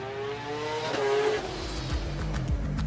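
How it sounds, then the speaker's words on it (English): A rotary-engined rallycross car screams around the track at high revs, its engine note climbing as it accelerates past, loud and near, with a brief tyre squeal and no talk. "Another rotary engine screaming it on the way round."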